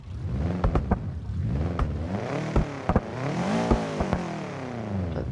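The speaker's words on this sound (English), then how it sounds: "it doesn't sound the best just idling" A manual car's engine idles in a steady, rough rumble with slowly wavering pitch, punctuated by several sharp clicks and clatters, moderately loud and close with no talking.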